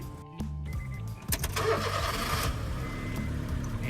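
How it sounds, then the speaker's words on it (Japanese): A car engine cranks and catches about 1.3 seconds in, then settles into a steady mid-pitched idle, loud and close, with no talking. "エンジンをかける。"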